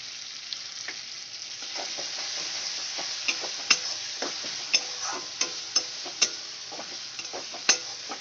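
Tomato puree and spices sizzle steadily in hot oil in a pan for moong dal. A spoon scrapes and taps the pan in regular stirring strokes over the continuous frying hiss.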